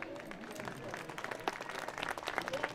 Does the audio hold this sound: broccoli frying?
no